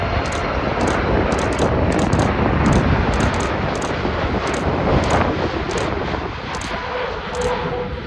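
A Boeing 747-8 freighter on approach to land at Dallas Fort Worth airport gives a loud, steady broadband jet roar mixed with wind buffeting on the microphone, sustained for the whole stretch.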